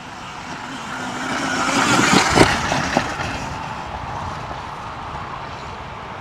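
An RFN SX-E15 Plus electric dirt bike is ridden through deep ruts in the woods. Its motor whine and rolling noise swell toward the middle as it passes close by, then fade back under a steady outdoor background.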